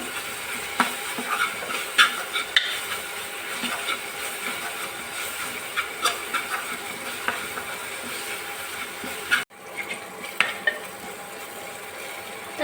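Capsicum pieces cook in a pan for pav bhaji, giving a soft steady sizzle broken by irregular scraping and stirring clicks, close up and with no talk.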